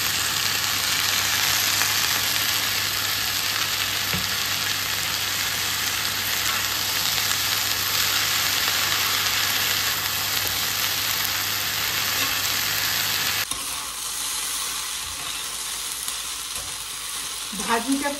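Onion flower stalks sizzling and frying in mustard oil in a pan, a steady close hiss with occasional stirring scrapes, then a sudden drop in level toward the end.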